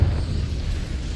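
A Confringo explosive spell from Hogwarts Legacy lands as a short, heavy, low boom with a sharp onset, rumbling on for about a second before ending.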